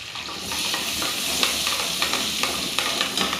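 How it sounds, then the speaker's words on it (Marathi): Garlic-ginger paste, cumin and mustard seeds sizzle in hot oil in a pan for pav bhaji, a steady frying hiss punctuated by regular scraping stirs of a spoon. "हे बघा चांगलं परतून घेते"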